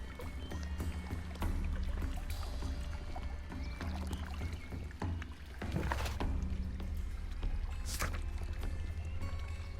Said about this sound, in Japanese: 水の音が